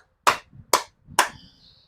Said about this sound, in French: Applaudis d'abord les amis.